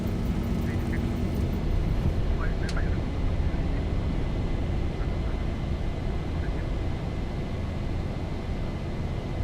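Zibo Boeing 737-800 engines roaring steadily through the takeoff roll in X-Plane 11, a loud broadband rumble held throughout with a faint voice over it.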